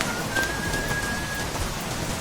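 Steady rain falling at night in a scene from the 2003 film Memories of Murder, a constant dense hiss without pauses.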